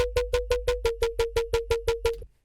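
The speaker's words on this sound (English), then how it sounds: "So yeah, the bass should sound like this." Distorted dubstep synth bass with a flanger filter and about 30% drive, pulsing in a steady run of about thirteen even, punchy notes before cutting off abruptly; loud and alone with no talking.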